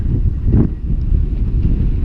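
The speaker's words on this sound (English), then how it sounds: "And it's windy, you can hear the wind." Strong wind roars and buffets the microphone in a constant low rumble, loud and close, with no other sounds standing out.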